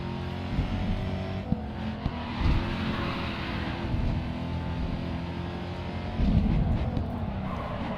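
Zenvo ST1 supercharged and turbocharged engine in Grid 2, a dense steady roar with low harmonic drone and rev swells, brief louder bursts near the start and end.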